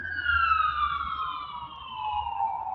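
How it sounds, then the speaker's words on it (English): A loud ambulance siren wails in a long, slowly falling sweep as it passes, with a low road rumble beneath it and no speech. "Oh, there's I think an ambulance."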